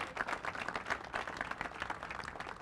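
Steady applause from a crowd, dense clapping holding at a moderate level throughout with no voices over it.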